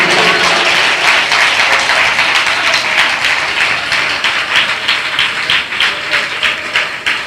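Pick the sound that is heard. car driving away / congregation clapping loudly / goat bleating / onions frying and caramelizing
congregation clapping loudly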